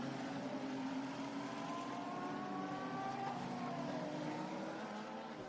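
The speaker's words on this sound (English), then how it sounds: "Looks like the safety car is picking up speed just a little bit." The safety car accelerates during the WEC 6 Hours of Imola endurance race, its engine giving a continuous steady drone with rising tonal whine, heard at a distance under a broad, even track ambience.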